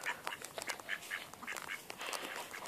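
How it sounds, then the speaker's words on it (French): Ducks quack repeatedly in a farmyard, a rapid cluster of nasal calls overlapping close by with some rustling in the background. "Après, il y a les canards."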